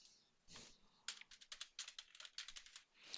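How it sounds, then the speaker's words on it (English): Typing on a computer keyboard: a quick run of close, crisp key clicks after a couple of isolated taps, fairly quiet and with no voice over it. "I'll just be typing university over there."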